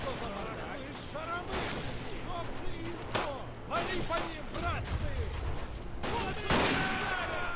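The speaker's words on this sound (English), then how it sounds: "Snipers firing away." Rifle fire from snipers crackles in a Battle of Empires battle, irregular sharp shots and thuds scattered through the scene while someone talks over the gunfire throughout.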